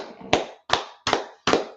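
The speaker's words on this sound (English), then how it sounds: "clap it up for class" A group claps together for a class in four sharp, evenly spaced claps, crisp and close with short gaps of silence between them.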